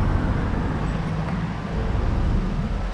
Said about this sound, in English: Just waiting for a little bit of traffic to swing by